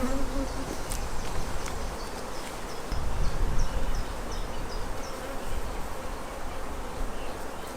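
Honeybees buzz around a queen rearing frame of queen cells in an Alley method setup, a dense, close, continuous hum with individual bees whining past, accompanied by faint handling noises.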